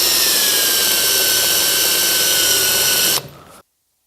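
A power drill bores out a part during work on a Mercedes with an OM606 engine, whining loud and steady at close range for about three seconds before cutting off and spinning down into silence.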